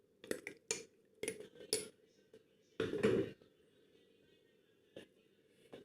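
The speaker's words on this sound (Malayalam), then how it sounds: "നന്നായി മിക്സ് ചെയ്യുക." Spoon clinking and scraping in a pot while ground dates are stirred into chutney, a series of short close metallic knocks and scrapes with a louder rattling burst midway, no talking.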